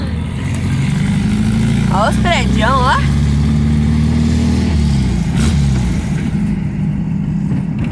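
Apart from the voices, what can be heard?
Volkswagen Fusca (Beetle) engine noise while driving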